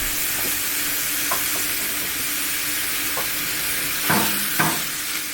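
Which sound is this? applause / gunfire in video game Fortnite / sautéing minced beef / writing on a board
sautéing minced beef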